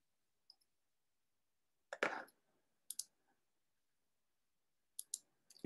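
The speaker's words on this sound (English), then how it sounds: "I could click there," Quiet computer mouse clicks at a desk, a few sparse single and double clicks spread across the span, close and faint with no talking.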